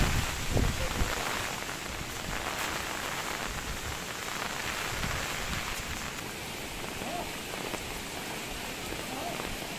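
Heavy monsoon rain pours steadily on a trek to Dudhsagar waterfalls in Goa, a dense, close hiss of drops pattering on surfaces that runs without pause throughout.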